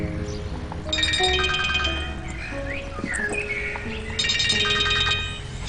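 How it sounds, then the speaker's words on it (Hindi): A phone rings with an incoming call, two bursts of a bright melodic ringtone separated by a pause, set against a low background murmur of indoor ambience. "शेरी का फोन आ रहा है, मैं चलती हूँ।"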